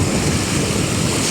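Strong wind buffets a fishing boat at sea, a dense, loud roar of gusting air and rushing water pressing steadily against the microphone, with no voices.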